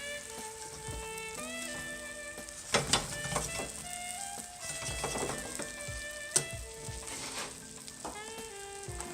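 Veal slab frying in a pan for a Fisherman veal Parmesan, a steady close sizzle with crackling spits and a few sharper pops, alone with no talking.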